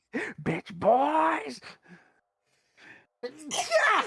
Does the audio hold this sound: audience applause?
no